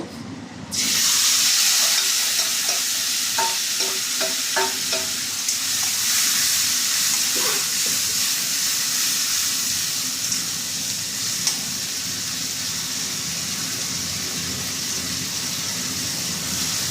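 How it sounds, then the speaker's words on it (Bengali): Ground spice paste with fried taro sizzles and fries steadily in a hot pan for Boal fish curry, with stirring scrapes early on and a continuous loud hiss throughout; no talking. "মশলাটা ভালোভাবে কষবো।"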